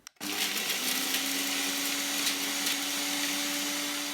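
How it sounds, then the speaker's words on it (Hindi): A blender switches on abruptly and whirs loudly and steadily, grinding whole spices for nihari masala with a constant high-pitched drone. "ब्लेंडर को मैं ऑन कर लेती हूँ।"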